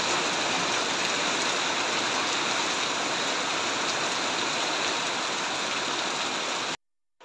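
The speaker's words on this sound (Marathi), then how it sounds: "खूप जोरात पाऊस पडता." Heavy rain falls in the green Konkan countryside, a loud, unbroken broadband wash that runs steadily for about seven seconds before cutting off abruptly.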